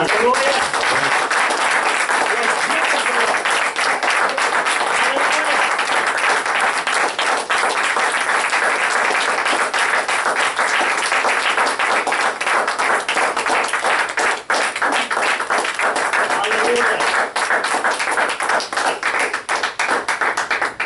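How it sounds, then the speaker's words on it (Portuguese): A church congregation applauds loudly and steadily for about twenty seconds, with dense continuous clapping and talk heard beneath it. "Então vamos dar uma salva de palmas para o Senhor Jesus"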